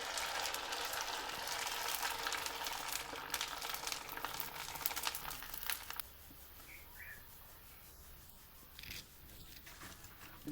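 Kurdai frying in hot oil over a wood-fired village stove, a loud crackling sizzle that drops to a softer hiss halfway through, with occasional light clinks.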